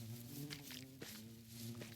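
Bees buzzing in the Minecraft video game, a faint steady drone with small clicks and game sounds mixed in, and no talking.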